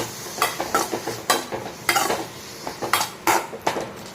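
A spatula scrapes and stirs chopped tomato in a pan in quick irregular strokes over a soft sizzle, close and fairly quiet.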